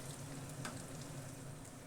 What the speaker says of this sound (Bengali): এবার আমি উল্টে দিয়ে অপর পিঠগুলোও ভেজে নিচ্ছি।